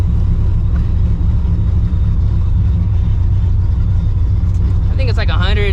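A 2V Ford Mustang on the road, heard from inside the car in hot weather, with a loud constant engine and road drone throughout and a brief higher whine near the end.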